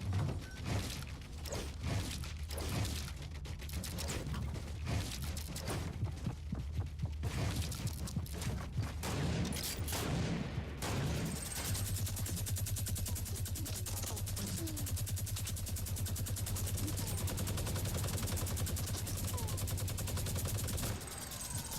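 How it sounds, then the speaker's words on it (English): Rapid light machine gun fire hammers at a player's base in a video game, long bursts of close, loud shots with short gaps, then a steadier droning rumble of continuous fire and mechanisms. "I'm just trying to find this person as they're trying to LMG my base down."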